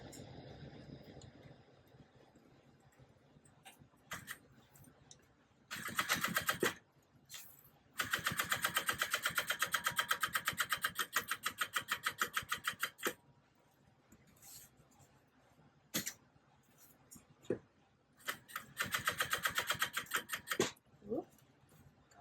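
Sewing machine top stitching a bag, running in several bursts of rapid mechanical stitching separated by pauses, close and clear with quiet handling sounds between.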